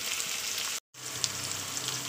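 Diced potato with tomato and green chili sautéing in a pan, a steady close sizzle and crackle of frying with a brief cut of silence partway through.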